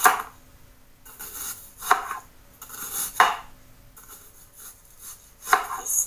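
A knife chopping onion on a board, with several sharp, separate chops spaced unevenly over a few seconds, close and fairly loud against a quiet kitchen background.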